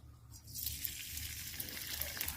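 Ginger, garlic and green chilli hitting hot white oil in a pan, a dense steady sizzle that swells after a quiet start and crackles on without pause.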